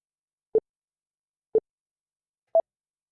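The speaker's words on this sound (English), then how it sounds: "the beep beep timer to count you down will be coming at you right now" A countdown timer gives three clean electronic beeps one second apart, the last one higher in pitch, each short and isolated against silence.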